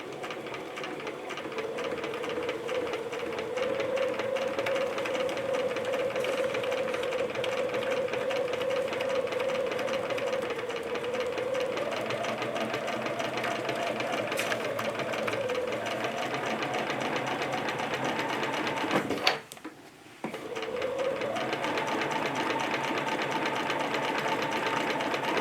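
A sewing machine stitches an embroidered scalloped table topper with a fast, even mechanical whir and tapping, pausing briefly once before resuming at the same steady pace, close and alone.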